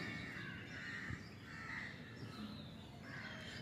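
A crow caws repeatedly at a zoo, several harsh calls at a moderate distance over a steady low background hum.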